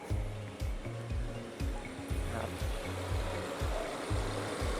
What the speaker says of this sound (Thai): เปิดอุณหภูมิ 23นะฮะเปิดแอร์อันนี้เปิดแอร์ละ